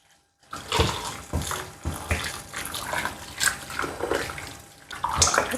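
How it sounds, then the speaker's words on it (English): Hot water poured into a pot of catfish stew, a splashing, gushing pour that starts after a brief silence and continues with uneven bursts and gurgles, close and fairly loud. "Now I'm gonna add hot water"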